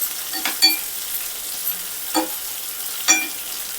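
Stuffed eggplants stirred and turned in a frying pan, with a soft steady sizzle and a few distinct scraping stirs spaced a second or so apart, close by and with no talking.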